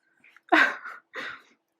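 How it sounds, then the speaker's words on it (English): A single sharp sneeze close by, with a quick breath before it and a softer trailing exhale after. "she's sneezing a bit."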